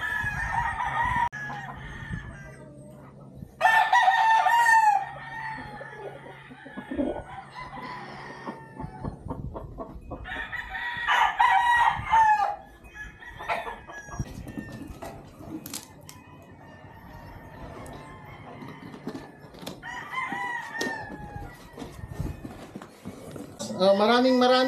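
A gamefowl rooster on a farm crows loudly several times, each long call rising and falling, with clucking and scattered clicks in between and people talking in the background.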